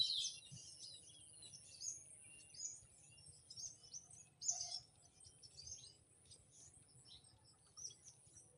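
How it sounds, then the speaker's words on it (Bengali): Many birds chirping and calling at dusk as flocks return to roost by a village pond, a faint, scattered chorus of high twitters over a soft insect hum, moderately distant with no talk. "পাখিদের ঘরে ফেরা"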